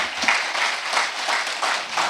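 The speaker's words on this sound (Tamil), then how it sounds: "கைதட்டுங்களேன் அதுக்காக." Audience applause at an educational talk event honouring an educationist, with a dense crowd clapping in a fairly even wash and faint clusters of sharper claps on top, no speech.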